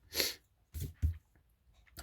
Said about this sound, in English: I've got a bit of a cold coming on, so sneezing and sniffing